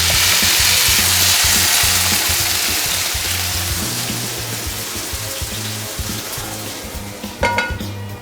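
Potato rosti frying in an oiled pan gives a continuous bright sizzle that slowly eases in loudness, with a brief metallic clink of the pan near the end.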